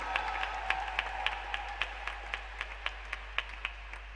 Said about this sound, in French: Il faut acclamer Dieu fort fort.